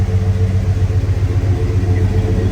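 A 1989 Jeep Grand Wagoneer's V8 idles steadily up close, a loud, even low rumble with a throaty exhaust burble and no pauses.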